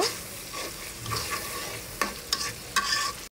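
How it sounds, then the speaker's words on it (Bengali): Shrimp and greens stirred and frying in a pan, a steady sizzle throughout with several sharp scraping clatters of the spoon against the pan, close and clear. "এখন ভালোভাবে একসাথে মিক্সড করে দেন এটাকে একটু কষিয়ে নিব"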